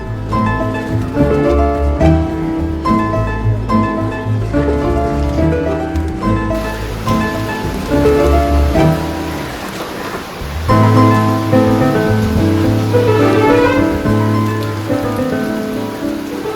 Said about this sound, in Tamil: இது ஆல்மோஸ்ட் நைட் ஆரம்பித்த மழைங்க, இன்னும் பெஞ்சிக்கிட்டே இருக்குது.